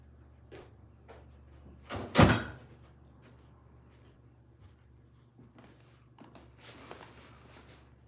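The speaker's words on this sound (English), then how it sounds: "Let me go put my tea in the microwave and close the door." A microwave door shuts with a single firm thump and clack in a quiet kitchen, followed by faint handling noises and low room hum.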